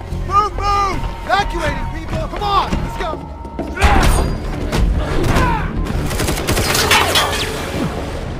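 Bursts of rapid gunfire and heavy thuds erupt amid shouting voices and chaotic action noise in the film Avatar: The Way of Water, loud and dense throughout.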